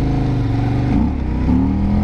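A reprogrammed KTM 1190 Adventure motorcycle on mixed tires, engine droning loud and close while riding, its pitch sagging briefly and then climbing again with throttle.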